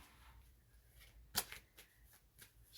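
Playing cards are shuffled during a card reading, a soft, quiet riffling with one sharper burst of card flutter, close and faint in a calm room.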